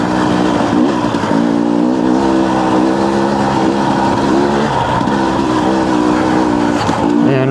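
A two-stroke engine runs loud and close, its buzzing tone wavering as it revs up and down without a break.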